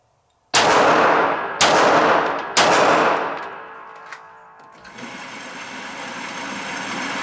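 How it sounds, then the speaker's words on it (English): Handgun shots fired at a target on a range: three loud, sharp close reports about a second apart, each ringing off with echo, followed by quieter ambient noise. "I'm staging the trigger, squeezing the trigger."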